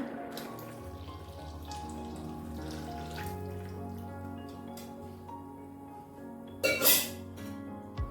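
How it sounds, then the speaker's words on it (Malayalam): Second coconut milk is poured into ada pradhaman, a Kerala dessert, with a soft continuous trickle over a steady background tone, then a brief louder splash near the end; no one speaks. "രണ്ടാം പാല് ചേർക്കുകയാണ്"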